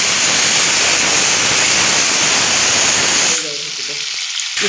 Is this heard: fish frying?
yes